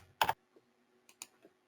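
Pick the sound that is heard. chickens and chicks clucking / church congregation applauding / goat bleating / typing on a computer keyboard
typing on a computer keyboard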